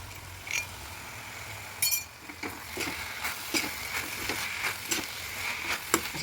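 Spring onion greens sautéing in hot oil in a home kitchen pan, a steady soft sizzle with intermittent clinks and scrapes of stirring spread across the clip, no talking.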